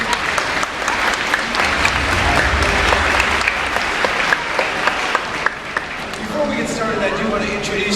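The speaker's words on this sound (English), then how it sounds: "please give a big round of applause. Let's welcome out Shen Aquarium's training team." A crowd at an aquarium show in Chicago applauds steadily and loudly for the whole stretch as the training team is welcomed out, with an announcer's voice running over the clapping.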